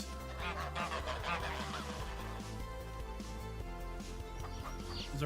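Geese honking in the farming video game Farming Simulator 25, a flock of about ten adult geese on a farm, calls layered over steady background game music and ambient tones, moderately loud and continuous.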